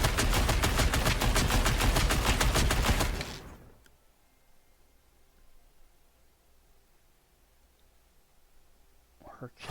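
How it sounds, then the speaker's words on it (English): Scarlet Witch's Mystical Burst in Marvel Rivals fires a rapid, dense salvo of magic missiles for about three seconds, loud and continuous, then cuts off to a quiet game ambience. "Hold down the attack button to unleash rapid, relentless salvo of magical missiles in the targeted direction."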